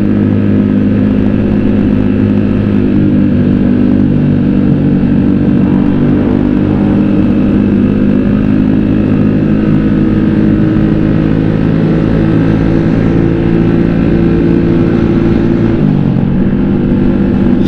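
A loud motorcycle engine idles and rumbles continuously up close, its throaty exhaust steady with a slight shift near the end.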